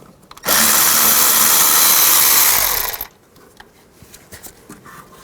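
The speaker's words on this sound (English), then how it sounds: "Use a 10mm socket. Remove this bolt." A power tool, likely an impact wrench with a 10mm socket, loosens a bolt on the rear wheel hub of a 2007–2011 Honda CR-V, running in one loud continuous burst of about two and a half seconds before cutting off to quiet shop clatter.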